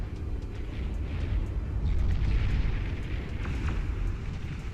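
Windmills blowing up in the strategy game Beyond All Reason, a dense, continuous rumble of overlapping explosions with crackling debris and scattered pops, steady and loud throughout.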